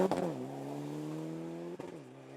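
A Mitsubishi Evo 9 rally car in the production class on a Sligo rally stage, its engine revving hard and then holding a steady high pitch, with a brief shift or bump near the end.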